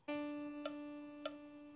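A single sustained tone held steadily for the full length, with a clear pitched harmonic series and a couple of faint soft clicks partway through.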